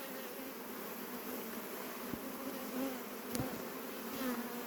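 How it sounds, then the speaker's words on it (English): Honey bees buzz at an open hive being worked by a beekeeper, a faint, continuous droning hum with a few light knocks, steady throughout and without talk. "Beware, you've got the bees."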